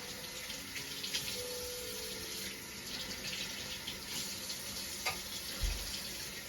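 Tap water running steadily from a kitchen faucet while bread dough is being prepared, a continuous broadband splashing hiss at moderate, even level throughout, with no talking.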